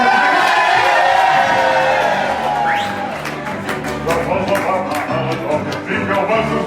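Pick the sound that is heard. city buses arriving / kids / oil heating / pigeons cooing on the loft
kids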